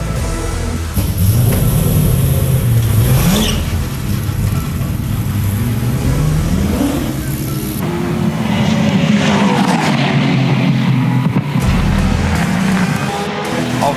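Gen3 Camaro Supercars race car engine revving loudly up and down through rising and falling pitch sweeps, close and continuous with a harsh roar.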